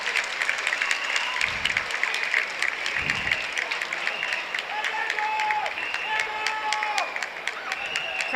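Spectators cheer and shout continuously at the Saracen Joust in Arezzo, a dense crowd roar with whistles and raised voices filling the air throughout, thumps breaking through now and then.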